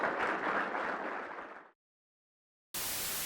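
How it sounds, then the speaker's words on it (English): Dense applause from a conference audience for about a second and a half, fading out into silence, then clapping resumes abruptly at full strength. "Get another round of applause for Julia."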